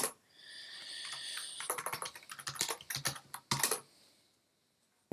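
Typing a Linux terminal command on a computer keyboard, a quick burst of close, crisp key clicks in an irregular rhythm, followed by a few louder keystrokes and then near silence.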